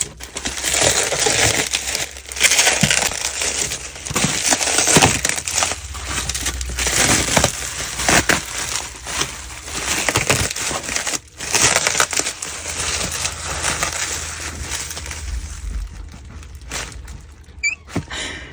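Crinkly packaging being unwrapped from a Chanel 19 bag: continuous close rustling and crumpling with occasional sharper crackles, loud and unbroken throughout.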